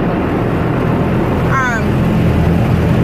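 Automatic car wash machinery running over a car, heard from inside the vehicle as a steady loud roar and rumble with a brief whirring sweep partway through.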